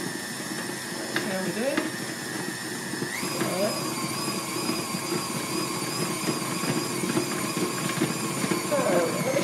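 An electric stand mixer whirs steadily with a high motor whine while mixing cake batter, its pitch stepping up partway through, under a voice talking nearby.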